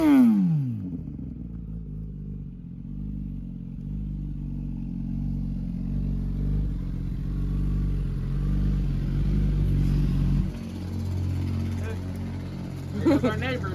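A Kawasaki ZX10 motorcycle engine with a brand new fuel pump, running hot, opens with a sharp rev that falls into a rough, uneven idle. It rises again toward the end, then drops near the ten-second mark and finishes with another quick blip.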